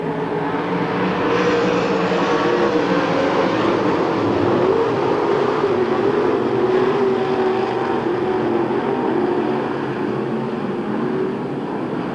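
Race cars run at Hamilton County Speedway during an August 1993 fair race, giving a steady, loud, blended engine roar that holds for the whole stretch with no clear gaps.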